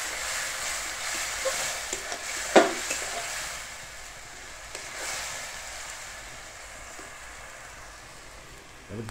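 Chicken curry with onion and tomato fries and sizzles in a pot over a wood fire while being stirred. A steady crackling hiss runs throughout, with a sharp scrape of the spoon around the middle.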